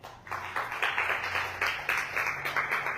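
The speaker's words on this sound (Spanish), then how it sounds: "un fuerte aplauso para Él" Rhythmic group clapping in a church service, steady repeated broadband bursts roughly every quarter second, moderately loud with a faint low hum beneath, no talk over it.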